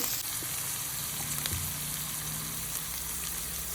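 Mutton pieces sizzle and fry in ghee in a pan, a steady close crackling hiss with faint stirring, no voices.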